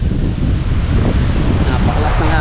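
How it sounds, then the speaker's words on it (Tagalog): Strong wind roars across the mic on White Beach at Pinamalayan, Oriental Mindoro, a dense, continuous low rumble with a hint of surf and no clear talk. "Ayun na, pumapalo na yung hangin, no?"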